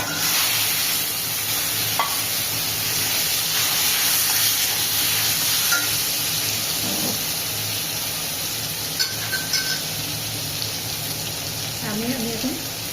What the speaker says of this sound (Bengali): এবার রসুনগুলো লাল হয়ে ভাজা হয়ে গেছে, এবার আমি আমগুলো দিয়ে দিচ্ছি